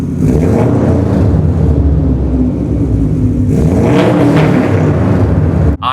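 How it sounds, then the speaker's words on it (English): Car with an ETS Extreme non-resonated straight-pipe exhaust revving hard, a loud raspy roar holding steady, swelling again midway and cutting off sharply near the end. "I currently have an ETS Extreme exhaust. It's non-resonated, which doesn't sound that bad."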